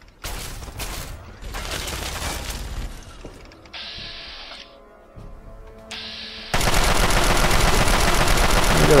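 Fallout 3 combat brings bursts of gunfire, rapid shots and clattering mechanical weapon sounds in uneven bursts, with quieter stretches between them and a loud, dense volley near the end.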